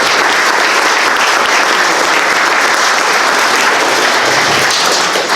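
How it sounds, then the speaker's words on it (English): Audience applause at a Veterans Day ceremony, loud, dense and continuous clapping from a large crowd that holds steady for the whole stretch without any talk over it. "Let's give her another round of applause."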